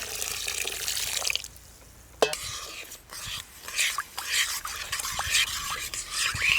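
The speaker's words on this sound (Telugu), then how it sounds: "పంచదార మునిగే వరకు నీళ్లు పోసుకుని పాకం పట్టుకుందాం" Water is poured over sugar in a pan on the stove to make syrup, a close splashing pour followed by scraping and stirring clinks, with faint whispery sounds in between.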